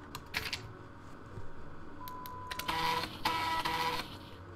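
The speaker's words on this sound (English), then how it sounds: "Did we just use an old printer sound?" Old printer sound effect from the video game Haydee: mechanical whirring and buzzing with a steady electronic tone, in two close bursts at moderate loudness with no talk.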